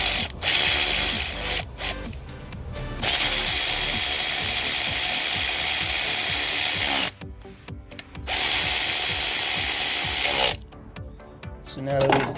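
A ratchet wrench tightens bolts to secure an injector tool on an engine in a workshop, with loud rapid clicking bursts separated by brief pauses.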